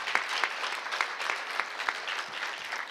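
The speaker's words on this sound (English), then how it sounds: "I think they deserve a big round of applause for that." Applause from a town hall audience, a steady wash of many hands clapping at moderate distance, fairly soft and continuous with no talk over it.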